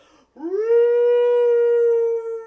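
A dog lets out a single loud, sustained howl that rises quickly and holds a steady pitch for about two seconds, close and alone.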